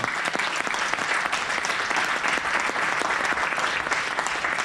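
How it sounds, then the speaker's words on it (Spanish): A congregation applauds inside a church during a Christmas service, with loud, even, continuous clapping that holds at one level for the whole stretch and has no talk over it. "Denle un aplauso."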